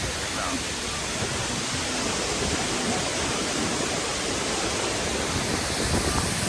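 A waterfall near Juneau, Alaska, pours down into the sea. It makes a close, continuous broadband roar that stays level and dense throughout, with no other distinct sounds.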